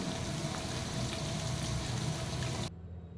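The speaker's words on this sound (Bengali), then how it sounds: "টুকরো করা পনিরগুলোকে দিয়ে পনিরগুলো মিনিট দুই তিন ভেজে নেব" Paneer pieces frying in a pan with a little chilli powder and salt, a steady close sizzle and crackle that runs evenly before cutting off abruptly near the end.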